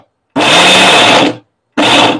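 A mixer grinder jar of coconut pieces whirs loudly in two short pulses, a roughly one-second burst followed by a brief gap and a second shorter burst, with no talk.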